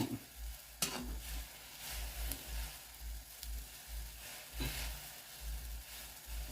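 Insects, including crickets, being roasted in a pan that has ended up with too much water, with a faint, steady sizzle under a rhythm of scraping stirs and occasional sharp taps of the utensil on the pan.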